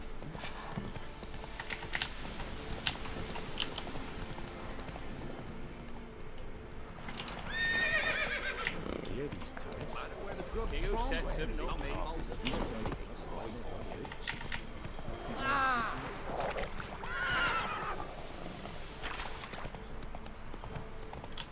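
The horse Roach in The Witcher 3 whinnies twice and trots with hoof clip-clop under game ambience, with a voice talking and keyboard clicks tapping throughout.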